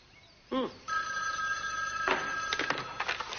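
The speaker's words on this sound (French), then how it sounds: "J'espérais que ce serait Madame Capwell qui décrocherait le téléphone" A telephone rings indoors in a soap opera scene, a bright repeated trill starting after a brief human sound, then continuing in pulses at moderate level in a quiet room.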